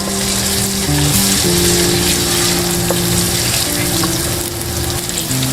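Ginger garlic paste sizzling in hot oil, a loud, steady frying hiss that runs throughout with a faint background hum, no talking.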